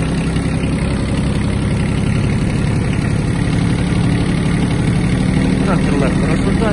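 A Kubota B1-17 mini tractor engine chugs loudly and steadily up close, a continuous low rumble with vibration as it pulls away in first gear.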